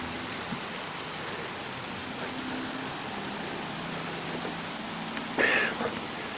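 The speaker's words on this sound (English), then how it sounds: "right now, it's only rain, thunder, lightning, and a little bit of a bluish cloud over there" Steady rain falls through a thunderstorm in Knox City, Texas, a broad even wash of drops with a faint low rumble of thunder and a brief louder burst near the end.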